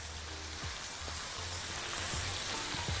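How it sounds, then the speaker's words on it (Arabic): Orzo tossed with spices and paprika in a hot pan sizzles steadily, with soft scraping stirs and low knocks of the spoon repeating every half second or so, close and moderately quiet with no talking. "هنقلب كل ده مع بعضه ونبقى كده جاهزين عشان نبدأ نسقي بالمرقة"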